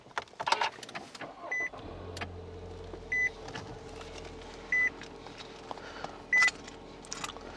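Inside a Nissan Altima, a smart-key start brings a few short electronic chimes and then a low, smooth engine hum settling into idle. No one speaks.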